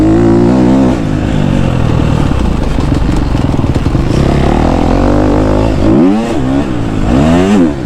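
A new KTM 250 SXF dirt bike being ridden, its four-stroke engine loud and close with constant throttle changes, rising revs, a brief dip and several sharp blips and shifts near the end.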